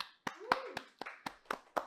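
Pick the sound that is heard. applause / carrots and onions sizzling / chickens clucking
applause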